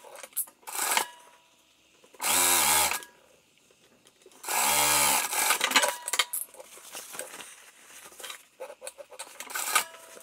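A sewing machine runs top stitching lines on a classic messenger bag in two steady motor bursts of a second or so each, separated by quieter handling, clicks and fabric rustle at close range.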